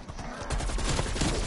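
Rapid gunfire in Call of Duty Cold War Zombies on the Outbreak map, a dense burst of close, loud shots with crashing impacts filling the short moment, no talk over it.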